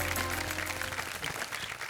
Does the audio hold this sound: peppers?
no